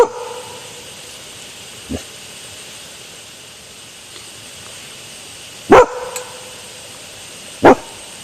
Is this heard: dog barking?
yes